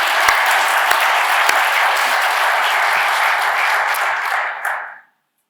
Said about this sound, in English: So a round of applause to all of you for actually getting here.